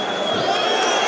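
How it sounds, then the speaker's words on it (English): A wrestling match crowd roaring in a dense, steady wash of cheering voices throughout a brief moment, loud and close. "But listen to the crowd here."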